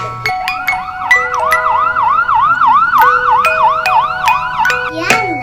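A wailing ambulance siren sweeps up and down repeatedly, loud and steady, with overlapping tones and a few sharp electronic beeps.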